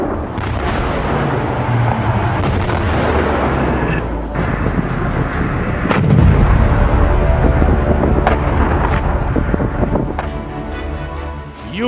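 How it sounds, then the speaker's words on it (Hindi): Explosions and artillery fire in war footage from north-eastern Ukraine, a continuous loud roaring rumble with wind-buffeted noise and heavy booms that swell midway. "जोरदार धमाका हुआ और पूरा का पूरा इलाका आग के गोले में बदल गया।"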